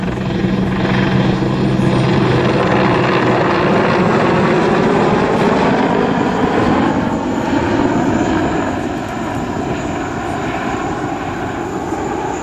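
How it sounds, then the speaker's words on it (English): A German Army CH-53 heavy helicopter roars overhead during an air show display, its rotor and engine noise loud and sustained, easing slightly toward the end. "Crew of 3 from the Luftwaffe displaying the CH-53 for us today, captained by Matt Schroeder"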